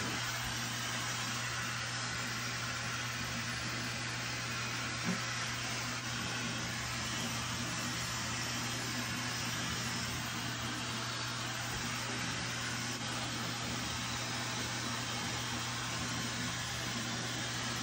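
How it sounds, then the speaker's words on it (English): A blow dryer running steadily on its low speed and low heat setting while drying hair set in velcro rollers, giving a constant close whooshing hum with a low motor tone and no voices. "I'm just gonna kind of run my blow dryer over my hair really quickly"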